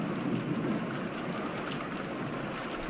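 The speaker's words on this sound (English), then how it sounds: "disappeared with the sound of the rain" Steady rain in a visual novel scene set near a rainy rose garden, a dense, even hiss of falling drops with no break, moderately loud and alone.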